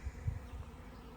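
Honey bees hum around a hive box on a farm, a low continuous drone close by with small swells, and no talking.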